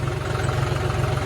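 A John Deere 5050D tractor engine idles steadily and close by, with a low, even diesel throb running throughout and no speech over it.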